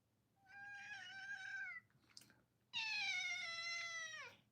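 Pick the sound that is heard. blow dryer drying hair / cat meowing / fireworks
cat meowing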